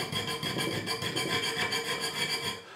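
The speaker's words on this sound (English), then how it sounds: "I'm just filing out the slots" A metal file worked back and forth to clean out the slots in a vintage wind-up tin toy, a close, continuous rhythmic rasping with regular strokes and no talking.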